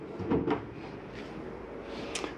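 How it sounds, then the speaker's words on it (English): A small drawer in a 2021 Palomino Columbus 329DV RV slides with a short wooden rumble and knock near the start, followed by fainter handling clatter. "A little drawer."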